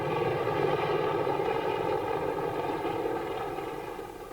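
An AH-64 Apache attack helicopter flies past with a steady, loud rotor and turbine drone that holds even, then fades slightly toward the end, with no voices.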